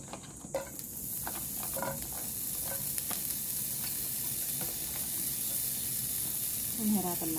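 Onions sautéing in a hot wok for ginisang pipino with shrimp make a loud, steady hiss and sizzle. A few utensil knocks come early and a clatter comes near the end, with no voices heard.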